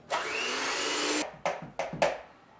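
An electric mixer beats sugar into red velvet cupcake batter: one steady whirring run, then three short bursts as it starts and stops, close and fairly loud with no talk.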